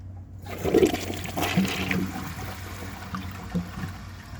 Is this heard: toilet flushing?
yes